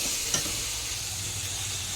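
Eggplant frying with spices in a pan, giving a steady, even sizzle that runs the whole time with one brief stir or clink near the start; close and moderately loud, with no talking.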